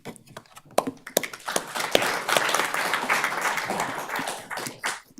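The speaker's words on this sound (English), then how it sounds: "Not often you get to clap for that" Audience applause at a Sparks, Nevada city council meeting following a mayoral proclamation, a mix of scattered and steady hand claps that build quickly and hold for several seconds before tapering off at the end.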